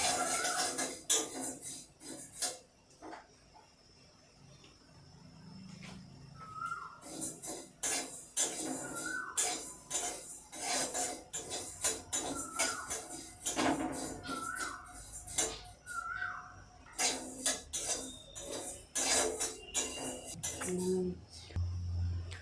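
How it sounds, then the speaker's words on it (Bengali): Fennel and five-spice seeds dry-roasted in a dry wok, stirred with a metal utensil that scrapes and clinks against the pan in irregular bursts, close and fairly quiet with short pauses. "শুকনো কড়াই একে একটু নেড়ে ভেজে নেব।"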